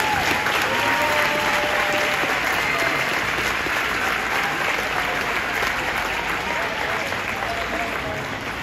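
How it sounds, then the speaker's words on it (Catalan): Audience applause at a children's school function in Sant Esteve Sesrovires, following a kids' Christmas song; dense, steady clapping from a crowd fills the room throughout, loud and continuous. "Esperem que el vostre aplaudiment sigui tan gran com us agradarà la nostra cançó."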